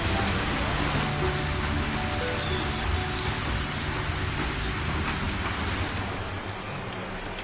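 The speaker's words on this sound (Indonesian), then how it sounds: "pas-pasan hujan turun" Steady heavy rain pours in a scene from the 2023 film Sewu Dino, a dense continuous hiss of drops on surfaces with a low rumble underneath, loud and unbroken with no voices.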